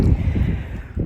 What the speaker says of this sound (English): Well, it is quite windy